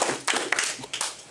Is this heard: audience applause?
yes